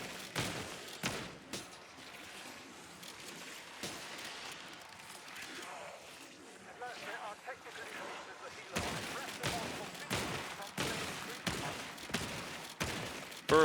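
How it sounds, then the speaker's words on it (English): A pump-action shotgun fires rapidly in the Call of Duty zombies map Citadelle des Morts, sharp blasts in quick bursts, bunched densely near the start and again in the final seconds, over quieter game noise. "For a pump action shotgun, look how fast that is without double tap though"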